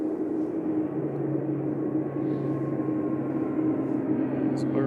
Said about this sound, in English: It's Marini departing to Guernsey there.